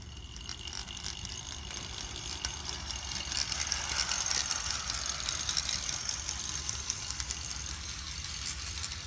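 A Walthers F40PH model locomotive running on track at about half throttle, a quiet continuous mechanical whir with gear-like ratcheting and a faint motor hum, steady throughout.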